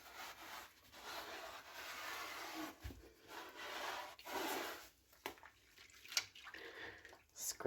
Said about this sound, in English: Scrub off all this yucky stuff.